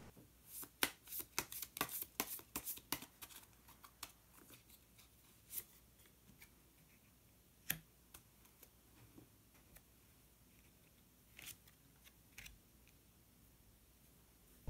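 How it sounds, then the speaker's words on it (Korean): Tarot cards are shuffled in a quick run of crisp riffling flicks, followed by a few sparse single snaps and taps as cards are drawn, heard close and quiet with no talking. "마법사 카드 한 장 더 뽑아보도록 하겠습니다"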